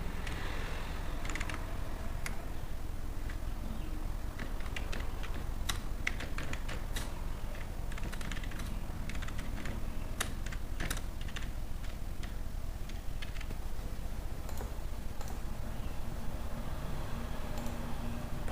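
Keys clatter on a computer keyboard while filling in an Excel attendance sheet, with scattered clicks and short bursts of typing over a steady background hiss and no talking.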